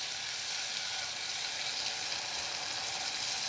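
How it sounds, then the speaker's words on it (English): Tomatoes and spring onion whites sautéing in a hot pan give a steady, close, even sizzle with a dense crackle that holds at one level throughout, with no voices. "And we start put the tomatoes, spring onion white. Let's saute them."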